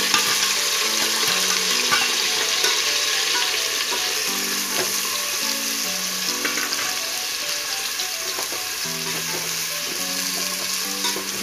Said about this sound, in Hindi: इसको है ना अच्छे से ब्राउन होने तक हम इसको तल देंगे।